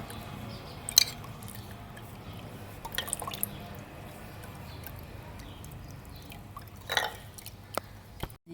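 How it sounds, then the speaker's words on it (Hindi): A sardai mixture of ground ingredients, milk and water is strained through cloth, giving a few scattered wet drips and squishy splashes, close and quiet, with faint background hiss between them. "चलिए आप इसे कपड़े में छान लेंगे"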